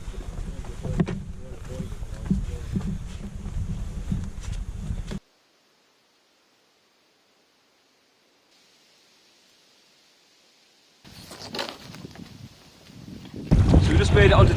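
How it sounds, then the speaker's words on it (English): Canoe paddled across Macintosh Lake in Algonquin Park against a crosswind, with gusty wind buffeting the microphone and rushing water, interrupted by several seconds of near silence before the wind noise returns louder; a voice is faintly present. "I am fighting a bit of a crosswind here to get across this last bit of Macintosh Lake"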